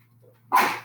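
Someone in a classroom gives a single quick sneeze, a short sharp burst that rises abruptly out of near silence and fades within half a second.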